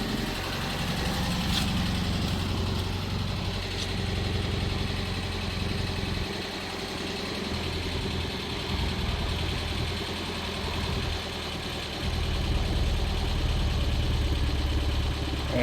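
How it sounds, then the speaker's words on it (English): A car engine idles steadily nearby, a low continuous rumble with slight fluctuations and no voices. "the engine's making so much noise"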